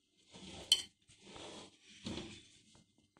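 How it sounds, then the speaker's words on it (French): Spoon stirring edible Nutella slime in a bowl, a few soft scraping and clinking strokes in short separate bursts, quiet and close. "Vas-y, tourne-le avec la cuillère."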